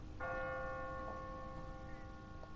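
A church bell in The Walking Dead video game rings out once with a clear, sustained metallic tone that slowly decays, heard alone over a steady low background rumble.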